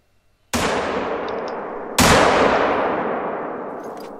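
Rifle shots in The Hunter: Call of the Wild hunting game, two loud sharp blasts about a second and a half apart, each trailing off in a long echoing rumble.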